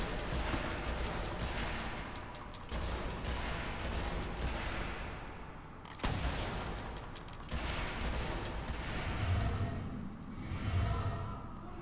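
Gunshots from the video game Fable 2, fired in repeated dense bursts over a busy, noisy backdrop of game sound, loud and sustained throughout.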